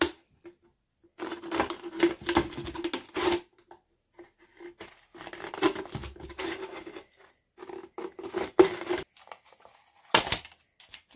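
Repeated crisp snipping and rustling of scissors cutting material for a bee skep, in irregular bursts with brief pauses in between.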